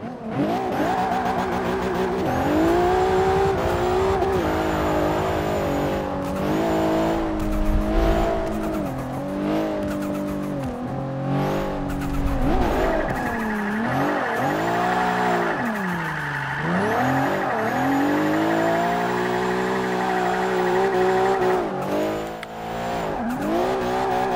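Nissan Skyline R35 GTR drifting in Forza 5, a loud, continuous engine roar that rises and falls with revs, with screeching tire squeal through long slides and no talking.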